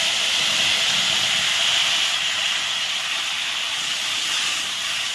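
Tomatoes dropped into hot oil with fried cumin and chilli give a loud, steady sizzle, a continuous bright hiss that holds evenly from start to finish with no voices.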